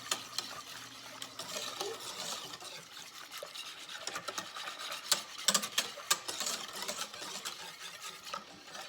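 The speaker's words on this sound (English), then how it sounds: "Mix it all up." Custard mixture with milk being stirred in a pot, a steady scraping, swishing sound with irregular sharper clinks and rubs, close and moderately quiet, with no talking.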